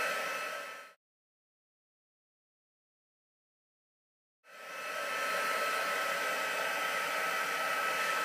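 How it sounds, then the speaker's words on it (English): A handheld heat tool blows hot air to melt embossing powder, giving a steady hair-dryer-like roar that cuts out for about three and a half seconds, then starts up again and runs continuously. "to take my heat tool, and what I'm going to do is to melt the embossing powder"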